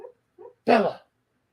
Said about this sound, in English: if you guys hearing my dog in the background